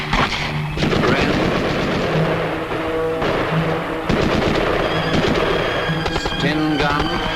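Bren light machine gun firing in dense rapid bursts during RAF Regiment weapon training, loud and sustained, with brief pauses between volleys.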